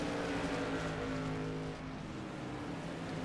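SK Modified race car engine droning steadily as it slows toward pit road, a continuous close rumble of the motor with no talk.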